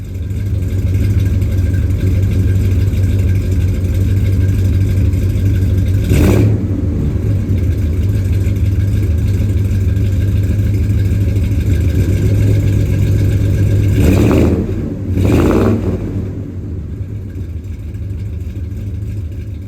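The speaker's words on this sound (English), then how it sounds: "The Super 44 is the one I always kind of love the sound. It's not too loud, but it's got a little bit of a deeper rumble." A 1978 Ford F-250 engine with Flowmaster Super 44 mufflers drones with a loud, deep, steady rumble. Several brief revs or gear changes break the tone before it settles to a slightly quieter run.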